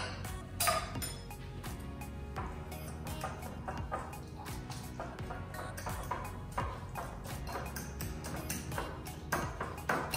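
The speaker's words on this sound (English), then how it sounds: "I'm gonna go ahead and use a spoon at first and then I'm gonna use a fork to smash all this down." Spoon and fork clinking and scraping against a bowl while mashing avocado into a keto dip, a steady busy run of close metallic taps and squishy strokes throughout.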